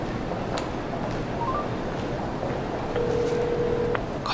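Someone dialing a borrowed mobile phone. Short electronic keypad tones come over a dull, noisy background, ending in one longer steady tone.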